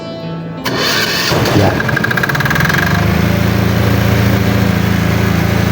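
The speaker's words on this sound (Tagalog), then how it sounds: "papaandarin ko lang itong generator" A Kipor generator engine being started: a brief cranking burst catches and settles into a loud, steady idle hum close by, running continuously to the end, with a single short spoken word near the start.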